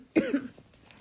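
A single short cough bursts out close up, followed by a faint breathy pause.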